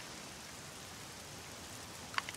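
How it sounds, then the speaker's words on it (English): Rain in the video game 7 Days to Die, a faint, even hiss of falling drops that holds steady throughout, with a small click near the end. "And you get back in the hole and it starts raining again."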